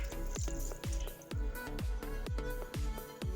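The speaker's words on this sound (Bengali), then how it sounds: "এখন আমি ধুয়ে রাখা সাবুদানাগুলো দিয়ে দিব।" Soaked sabudana is dropped into milk for falooda, giving a rapid series of soft wet plops and drips in a quick rhythm, close and faint, with no talking.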